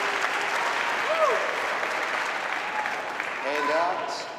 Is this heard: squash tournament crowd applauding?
yes